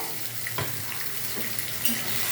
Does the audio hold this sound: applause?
no